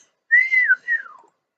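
A single high-pitched, gliding whistle from a character in the Dragomon Hunter game, clear and loud, in two rising-and-falling phrases with nothing else around it.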